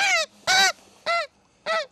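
Decoy geese honking at a goose-hunting hut in the Somme, four loud, close, harmonic honks in an uneven rhythm with short pauses, no voices.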